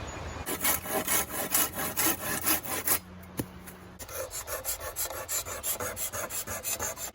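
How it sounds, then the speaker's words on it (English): The spine of a saw scrapes the remaining cambium off a wooden longbow stave, a close, rhythmic rasping of rapid back-and-forth strokes with a short pause midway. "I am using the spine of the saw to scrape off the remaining cambium"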